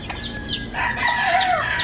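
A fighting rooster crows briefly nearby, a strained rising call with some clucking fowl around it.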